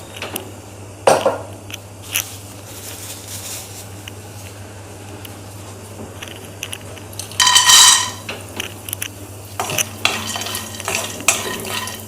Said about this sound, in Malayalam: നമുക്ക് ആദ്യം ഈ കപ്പലണ്ടി ഒന്ന് വറുത്തെടുക്കാം